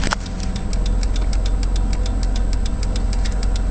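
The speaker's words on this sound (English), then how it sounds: "It starts first try, runs great from cold to warm." A 1984 Volvo 740GLE engine running after a cold start, a loud steady idle with a quick regular ticking pulse over a low rumble, heard up close and without speech.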